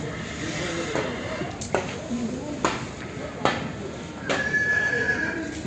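A horse whinnies at a livestock market near Bishkek, with several short calls rising out of a steady crowd murmur and people talking nearby.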